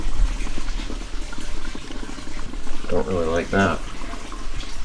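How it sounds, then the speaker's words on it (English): Steady rushing, trickling water from a window well drain emptying into a basement sump, continuous and fairly close, with a person speaking briefly over it. "this is how loud the water drains from the window well drain into the sump"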